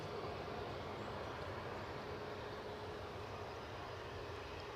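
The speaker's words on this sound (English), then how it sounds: "I'll ride in with the EasyJet from Belfast whilst I look out for the departing Ryanair for Stansted." An EasyJet airliner from Belfast arrives at Edinburgh airport, heard as a faint, steady engine roar that holds at one level throughout with no speech.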